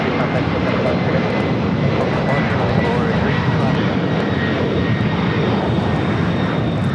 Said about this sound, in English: 325 taking off to Quito on a 767-300ER in the Avión Solidario livery